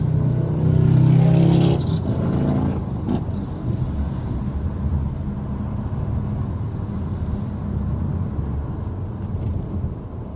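Motorcycles pass on an Arizona road, a loud engine rush swelling close by early on, then fading into a steady road roar mixed with gusty wind buffeting the microphone.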